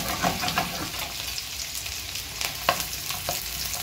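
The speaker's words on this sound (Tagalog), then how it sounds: "Lagyan na natin itong sibuyas bawang" Chopped onion and garlic sizzle and crackle in hot oil in a pan while being sautéed for pancit miki guisado, with scattered pops and occasional stirring scrapes, close up and continuous.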